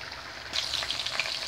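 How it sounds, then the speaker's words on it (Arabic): Chicken pieces frying in hot oil in a pan, a steady crackling sizzle that jumps louder after a brief quieter start and keeps popping close up, with no talk. "راح نحمر الدجاج تاعي في هاد الزيت"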